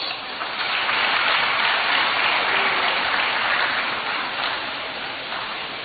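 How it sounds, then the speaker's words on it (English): A town hall audience in Ghana welcomes President Mahama with dense, steady applause that swells quickly and holds for several seconds before easing slightly, with no voices standing out. "Let us welcome him with a round of applause."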